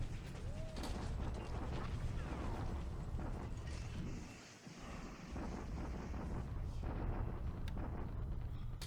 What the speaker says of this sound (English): It's just gonna be guns pounding at each other